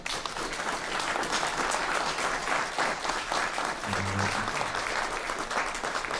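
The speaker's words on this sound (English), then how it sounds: "Let's give him another round of applause." Steady applause fills a city council meeting as attendees clap to congratulate someone, a dense, continuous patter of many hands that stays level the whole time, with a brief low hum partway through.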